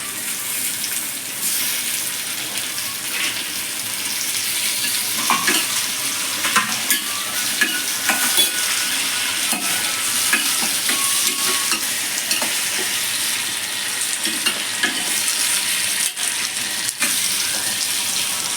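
Tomatoes and onions sauté in a pan for a mushroom gravy, sizzling continuously with occasional stirring scrapes, close and steady, with no talking.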